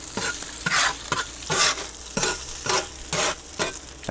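Octopus sizzling on a hot BBQ plate, a steady loud frying hiss with repeated scraping and stirring strokes in an uneven rhythm, close up and with no talking.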